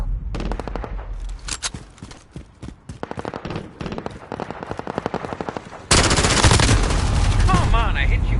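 Rapid bursts of automatic gunfire from a Call of Duty: Modern Warfare match on PS4 Pro, loud and close, stuttering in volleys before a sustained roar of shooting and explosions near the end.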